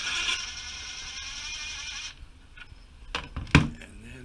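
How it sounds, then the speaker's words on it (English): The front axle bolt on a 1984 Honda Magna V45 is worked loose: a steady mechanical whir first, then a few sharp metallic clicks and a clank close by. "Now we're going to be undoing the axle bolt."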